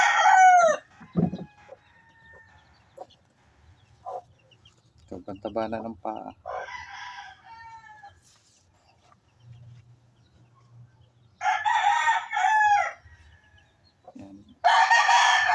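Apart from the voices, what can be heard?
rooster crowing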